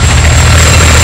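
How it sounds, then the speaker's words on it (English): A helicopter in Call of Duty: Modern Warfare 2 gives a loud, continuous low rotor thump and engine roar that stays steady and close throughout, with no voices. "Big ass helicopter."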